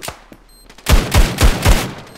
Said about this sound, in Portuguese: Deu mais um tiro.